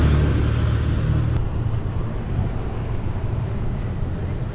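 A bus passes along a busy Singapore street, a loud continuous low engine rumble amid steady traffic noise throughout, with a voice speaking over it.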